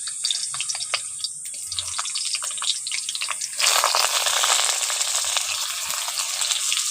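Stuffed pointed gourds are lowered into hot oil, setting off a loud, steady sizzle that jumps in intensity partway through, with scattered pops and crackles and no talking.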